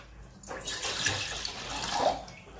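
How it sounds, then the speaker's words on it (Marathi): Water poured from a small bowl into a pot, warm water for dissolving jaggery, a short splashing gush rising and trailing off over about two seconds, close and alone. "वाटीने मी पाणी घालते आहे."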